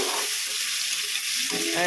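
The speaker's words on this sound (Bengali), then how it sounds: "ওদিকে আমি কুমড়ো ভাজছি এই যে কুমড়োটা ভাজছি" Pumpkin sizzles in a pan with a continuous crackling hiss, briefly quieter in the middle before the frying noise swells again.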